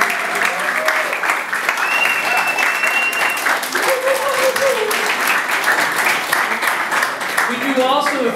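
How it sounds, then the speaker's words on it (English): Applause from an audience at a business event, steady crowd clapping throughout with cheering and whooping voices rising over it. "Come on, a round of applause."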